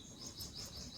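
Small birds chirp faintly in a short, quiet outdoor moment, their high tweets alone without voices.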